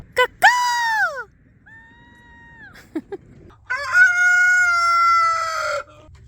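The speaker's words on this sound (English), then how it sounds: "I can't wait to share her chickens with you because they are absolutely stunning." Chickens call up close in a backyard flock: a sharp loud squawk, drawn-out cackling calls and short clucks with quiet gaps between them, plus a brief human voice.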